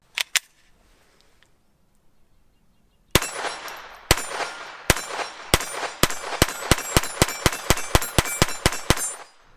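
A Taurus TX22 .22 pistol fires two sharp shots, then after a pause a rapid string of about fifteen cracks in quick, fairly even succession, loud and close outdoors.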